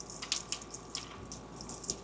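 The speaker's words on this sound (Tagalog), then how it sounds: "check ko muna kung malakas yung tubig" Water running from a household tap while baby clothes are washed, a steady splashing flow with small irregular drips and patters, close by and fairly quiet, with no voices.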